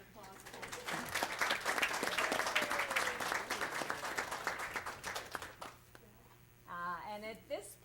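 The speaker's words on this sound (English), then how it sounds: "I think y'all need an applause for" Applause fills a village board meeting, with a crowd clapping loudly and continuously for several seconds before it fades, followed by a brief spoken voice.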